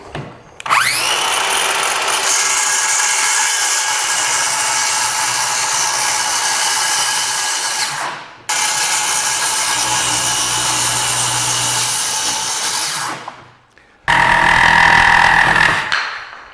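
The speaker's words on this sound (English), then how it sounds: "with cabinets you have to cut out the toe kick, which is what I'm about to do" A Whalen table saw cuts out the toe kick on a cabinet, its loud steady whine running for several seconds, dropping out briefly, then resuming before a short final burst.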